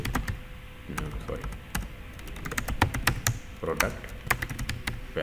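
Fingers tap out a database insert query on a computer keyboard, quick irregular clicks and key presses close by, while someone talks over the typing.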